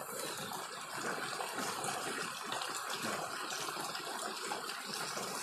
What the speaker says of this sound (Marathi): बघा कसं उखळतंय पाणी.